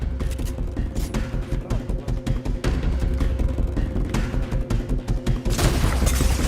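Gunfire crackles through a shooter video game in rapid, overlapping bursts and volleys that continue steadily throughout, with a heavier barrage near the end and no voices.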